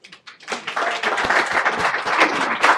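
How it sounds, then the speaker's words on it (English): An audience claps after a climate change presentation, a steady burst of applause rising to a full, fairly close wash of hand claps that holds to the end. "I think the applause for you, Kim, is also an introduction"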